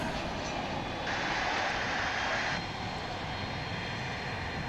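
An American Airlines jet in Reno Air special livery roars steadily at an airport, a broad engine rumble that swells briefly in the middle then settles, with no voices.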